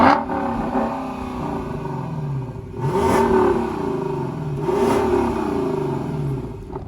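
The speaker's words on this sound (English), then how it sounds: "So what does the LC500 sound like? Well, let me turn it on and I'll show you." A Lexus LC500 convertible's V8 fires up with a loud, aggressive startup, then swells through two further revs before settling into a deep, steady idle rumble heard up close.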